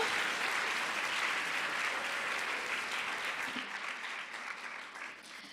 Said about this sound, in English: Can we get a big round of applause for our color guard?